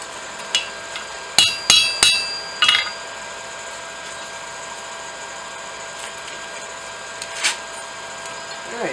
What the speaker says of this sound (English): I know it's cold. I shouldn't be hammering it.